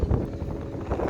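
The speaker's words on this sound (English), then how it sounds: "It's very windy today," Gusty wind buffets the microphone outdoors on a dusty airfield apron, a steady low rumble with soft surges, no voices.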